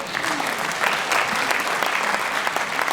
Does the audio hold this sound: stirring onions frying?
no